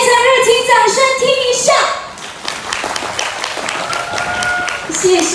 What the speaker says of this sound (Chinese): 来个全场热情掌声